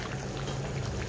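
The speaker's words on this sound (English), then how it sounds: "now it's all fully boiling" A pot of spicy Nyonya candlenut chicken curry comes to a full rolling boil, giving a steady, dense bubbling hiss that stays close and even throughout, with no talking.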